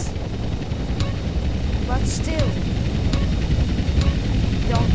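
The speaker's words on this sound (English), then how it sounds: "All of a sudden, I start hearing more choppers." Helicopter rotors drone steadily in GTA San Andreas, with military Hunter attack helicopters in action, forming a dense mechanical roar under a man's speech and some faint tonal game sounds.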